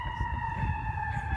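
An emergency siren sounds outdoors during a spey casting lesson, a steady high tone held for the whole moment over a low background rumble.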